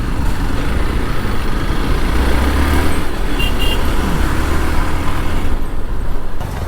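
A lorry drives and swings into a turn on a road, its engine a loud, steady rumble close by with constant traffic noise around it.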